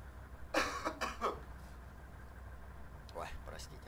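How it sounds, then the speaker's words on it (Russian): A person coughs several times in quick succession near the mic, followed by a short throat-clearing burst, over a steady low engine hum from a farming game. "Я пока покашлю."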